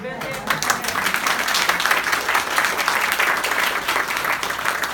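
Audience applause for a play's cast, a dense, steady wash of many hands clapping close by that holds at full strength throughout without pause.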